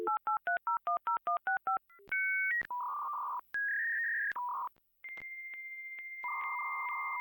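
An AOL dial-up modem connects, starting with a quick run of touch-tone dialing beeps, then a pitched tone and the harsh handshake screeches and hissing bursts, loud and close.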